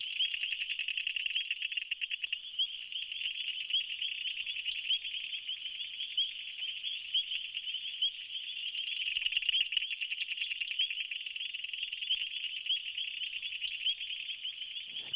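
A dense, continuous chorus of high-pitched calls from greater leaf-folding frogs, rapid trilling pulses layered over one another, steady and loud throughout.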